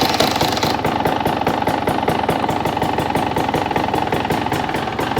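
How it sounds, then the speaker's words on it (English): A 2024 KTM 300XC-W two-stroke dirt bike, fitted with a TSP head and ECU tune, fires up and settles into a loud, steady idle that holds for several seconds, with a rapid pulsing rhythm and no talk. "let's see if it fires up."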